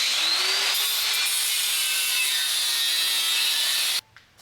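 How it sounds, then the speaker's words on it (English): Power tool cutting tack welds off a metal jig, a loud continuous grinding, whining cut running steadily for about four seconds before stopping abruptly, followed by brief quiet rattling. "I can also cut the tack welds off and remove this jig altogether"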